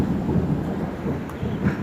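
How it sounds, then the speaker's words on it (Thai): Low rolling thunder rumbles continuously through gusty windy weather at a banana plantation before rain, a steady muffled roar with no voices. "โอ้ยได้ยินเสียงฟ้าไหม"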